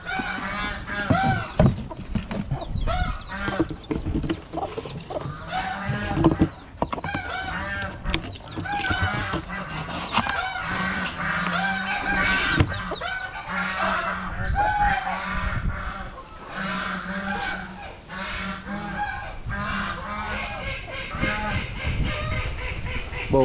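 Geese honk and chickens cluck and crow together on a Vietnamese farm, a dense, steady chorus of poultry calls near and far, with voices talking underneath throughout.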